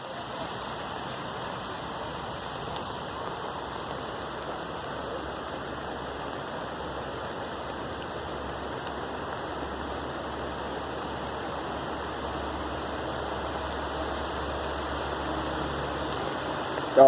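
Steady rain falling outdoors, a continuous soft hiss of drops with no clear gaps, fairly faint and even throughout.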